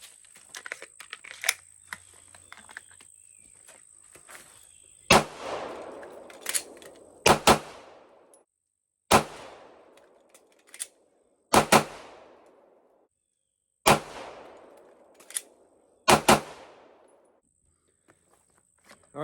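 A handgun fired in strings of shots on a practice range, sharp loud reports in pairs and singles with short quiet gaps and brief echoing tails.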